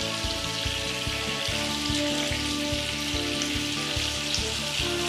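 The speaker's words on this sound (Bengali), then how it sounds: "ফ্লেমে ভাজতে হবে, এতে করে পিস জুসি থাকবে" Chicken pieces frying on high flame in hot oil for a Kashmiri chicken masala curry, giving a steady, close, loud sizzle throughout, with tonal music playing over it.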